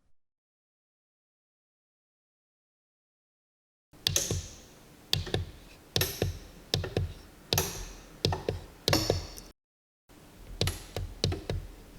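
Buttons on an industrial control station are pressed one after another during a diagnostics test, producing a run of close, sharp clicks and thunks after several seconds of silence.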